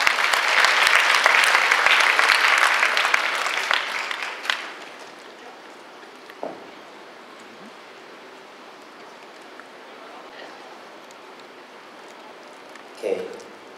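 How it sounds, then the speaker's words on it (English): An audience at a university culture concert claps in loud, dense applause for about four seconds, then it fades to a quiet hall with a few faint knocks. "Please give them warm applause."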